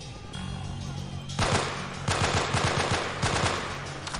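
Gunfire in the video game Delta Force: Black Hawk Down, starting after a low engine-like drone, with sharp, loud automatic rifle shots in quick successive bursts and a few pauses between volleys.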